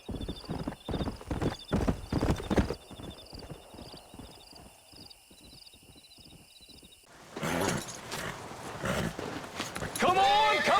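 A stallion's hooves clip-clop steadily in the Red Dead Redemption video game, a close, even run of hoof strikes on hard ground, then busier movement with a neigh near the end, with game music and speech in the background.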